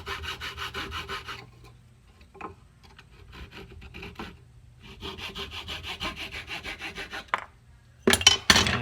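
Hand sawing through wood in steady back-and-forth strokes, rasping and rhythmic, with a short pause midway and a few sharp knocks at the end.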